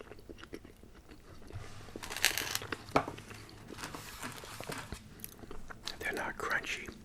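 Someone chews truffle oil fries close to the microphone, with soft bites and wet crunching in irregular bursts over several seconds and no talking.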